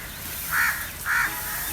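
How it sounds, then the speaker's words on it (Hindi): Crows perched in trees at a village home give two loud, harsh caws in succession over a steady outdoor background hiss. "तो गाइस ये कौवों की आवाज़, उनका चहचहाना, ये ट्रीज के ऊपर भी बैठे हैं,"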